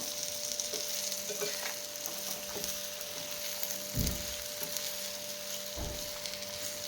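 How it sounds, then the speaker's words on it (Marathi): Eggplant masala sautés in a pan with a soft, continuous sizzle, broken by a few dull knocks and scrapes from a spatula as it is stirred, quiet and close with no talking. "आजूबाजूला टाकून घेऊया म्हणजे मसाला देखील परतला जाईल व्यवस्थित मिक्स करून घेऊया"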